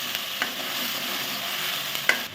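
Ground onion paste sautés in a hot pan for Chettinad egg masala gravy, a steady close sizzle broken by a few light scrapes as it is stirred.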